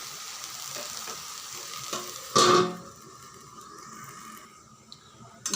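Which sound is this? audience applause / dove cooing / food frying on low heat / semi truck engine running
food frying on low heat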